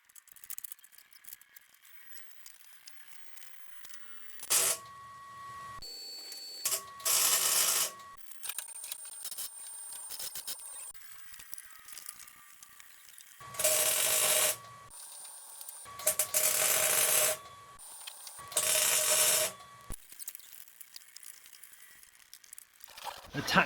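Tack welds being laid on a Land Rover Series 3 bulkhead, heard as several loud multi-second bursts of welding crackle and buzz separated by quieter workshop pauses, with brief clanks between.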